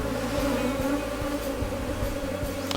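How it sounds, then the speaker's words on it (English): Honey bees work over a capped brood comb in an open beehive, a close, steady buzzing drone of many wings with individual insects flitting past, no voices. "You can see the worker bees going in and out of the comb, cleaning, feeding, depositing pollen, nectar."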